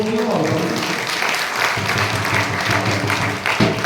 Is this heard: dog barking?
no